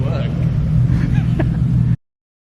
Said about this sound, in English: The starter which we just fixed. Running like a dream.